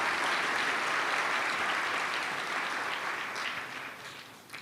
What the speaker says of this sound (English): So huge round of applause for Secretary General Antonio Gutteres.